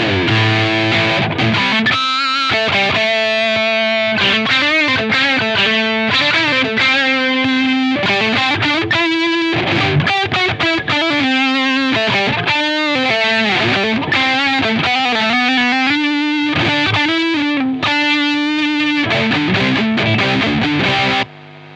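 Electric guitar played through heavy distortion boosted by an EQ pedal, giving a nasal, mid-boosted tone, sustained notes and bends flowing continuously with no talking.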